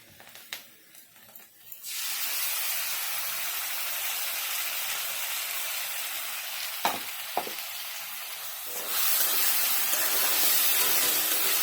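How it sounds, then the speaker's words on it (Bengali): Onions and spices for rajma fry in a pan with a strong, steady sizzle that swells loudly after a quiet start and grows louder again near the end, broken by a couple of brief clinks. "পেঁয়াজটা ভাজা হয়ে গেছে, এবার মশলাটা দিয়ে দেবো।"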